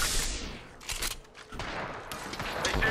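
Scattered enemy gunfire in a video game, a few sharp bursts and cracks spread across a few seconds over a busy mixed background, fairly distant rather than close.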